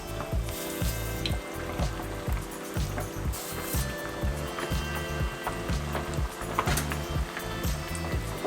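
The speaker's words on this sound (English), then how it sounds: "now the oil is ready, so let's put the wings in" Chicken wings fry in a pot of hot oil for Nagoya-style tebasaki, a continuous close crackling sizzle with busy popping and bubbling throughout.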